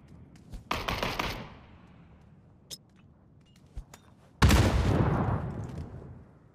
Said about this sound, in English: Yep, they're shooting at me.